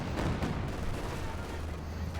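Rocket artillery fire in the video game Company of Heroes 2, striking castle walls, a quiet, dense rumble of blasts and impacts that rolls on continuously.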